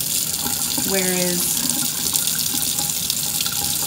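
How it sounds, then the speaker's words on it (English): Water runs steadily from a tap into a kitchen sink as broccoli is rinsed under it, a constant close hiss with a voice speaking briefly over it. "I'm just gonna rinse these off"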